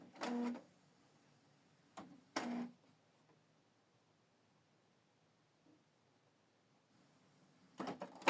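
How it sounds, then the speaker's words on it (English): Canon TS4150i printer whirring and clunking as it recognizes newly installed ink, with a few brief mechanical bursts near the start and another at the end, separated by quiet stretches. "So give the printer time to recognize the ink"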